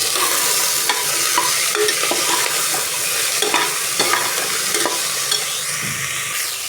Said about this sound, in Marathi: मोठ्या गॅसवर एक दोन मिनटासाठी सगळं हलवून घ्यायचं आहे